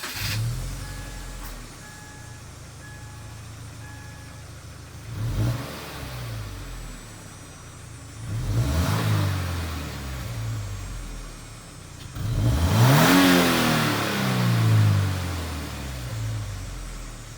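A 2015 Subaru Impreza with its stock muffler idles steadily, then revs three times in quick, rising-and-falling bursts, each louder than the last, close by with no talk.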